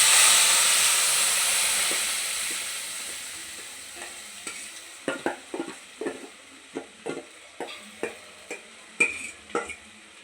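Ground masala paste cooking in oil with cinnamon, cloves and cardamom for a mushroom gravy, a hissing sizzle that fades while a spoon stirs and scrapes the pan in a steady rhythm of sharp, close strokes.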